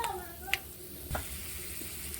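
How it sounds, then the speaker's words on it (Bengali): Nuts frying in a pan for a vegetarian cauliflower dish, a soft steady sizzle with a few light scrapes and clinks of stirring, faint and close. "বাদামগুলো ভাজা হয়ে গেছে তুলে নিচ্ছি"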